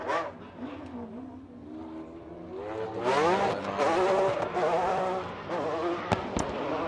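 Supercharged V12 Ferrari 599 drift car running nitrous during Formula Drift qualifying at Irwindale, its engine screaming and climbing in pitch with bursts of revving, tire noise and sharp backfire cracks near the end.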